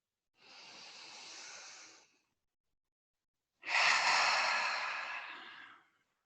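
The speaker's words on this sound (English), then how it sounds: "we'll begin by exhaling all of our air out" Two long, slow exhalations during a calming yoga breathing practice, each a soft, close, breathy rush of air released through the mouth, separated by a quiet pause while breath is taken in.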